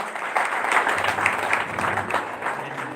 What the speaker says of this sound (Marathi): सर्वांनी एकदा जोरदार टाळ्या वाजवून या ठिकाणी गोपाळकरांचं कौतुक करावं